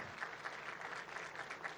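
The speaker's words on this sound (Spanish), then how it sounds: "Un aplauso fuerte otra vez, que se escuche" Steady crowd applause welcoming Governor Lorena Cuéllar at a public health event in Apetatitlán, Tlaxcala, a continuous, fairly distant clatter of clapping held at one level throughout.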